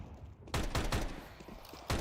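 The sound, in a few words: Operator sniper rifle shot in a video game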